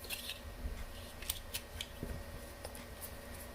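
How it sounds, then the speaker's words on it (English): Scissors snip off the loose yarn ends of a crocheted summer dress after slip stitching, giving several short, crisp clicks spread irregularly over the clip against a steady low background hum. "So all I'm going to do now is slip stitch and cut off my ends right here."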